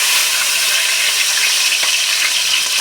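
Chopped onion sizzling steadily in hot oil for an eggplant and tomato curry, a dense continuous fry hiss that stays loud and even throughout, with no voices.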